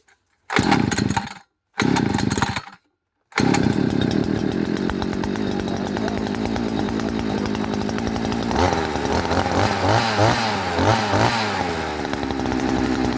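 A strimmer's small two-stroke engine, just cleaned at the carburetor, coughs twice in short bursts, then catches and runs continuously, loud and close, its pitch wavering as the throttle changes.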